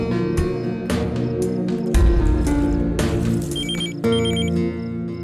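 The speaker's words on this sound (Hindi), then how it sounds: "इस समय किसका फोन होगा यार?" A telephone rings in short repeated electronic trills, faint beneath loud, dense dramatic background music.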